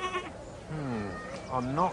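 A sheep in an animated fairy tale gives drawn-out wavering bleats, one long bleat in the middle and another toward the end, close and clear, with a short voice at the start.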